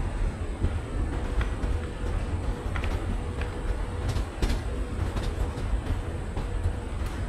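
The Chennai–Nizamuddin Rajdhani Express, made up of 3-tier and 2-tier AC coaches, rolls along at low speed with a steady rumble. Faint rhythmic clicks and clanks of wheels over rail joints recur throughout.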